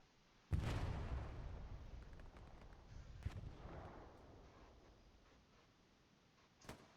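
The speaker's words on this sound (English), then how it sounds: "The artillery raining down on the defensive spawn wave of ZSR." Artillery fire in the WWII shooter Hell Let Loose, on the Remagen bridge map. A heavy boom is followed by a long rumbling decay, a second blast comes a few seconds later, and a sharp third crack arrives near the end.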